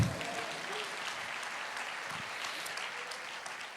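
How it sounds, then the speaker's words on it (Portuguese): Church audience at a sermon claps together, a dense burst of applause sustained evenly for several seconds, moderately distant and with no talk over it. "Detalhe, pode aplaudir."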